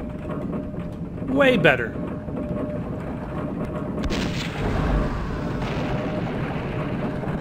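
Flare gun fired in the shooter Blood: Fresh Supply, with booming shots and mechanical noise running under a brief spoken comment through dense game audio.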